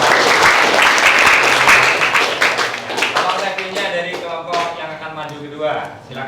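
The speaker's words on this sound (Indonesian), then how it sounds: "Kita kasih tepuk tangan untuk" A class of high school students claps for a student group's presentation, the applause loud and dense at first, then thinning out into scattered claps while voices murmur underneath.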